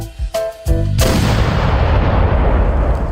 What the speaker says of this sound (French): ils furent salués par le canon du Fort Saint-Louis